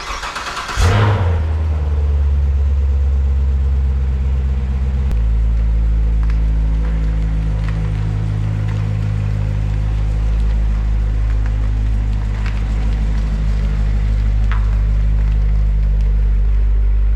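A car engine starts with a sharp catch and then idles loud and close, a steady low rumble that holds evenly to the end.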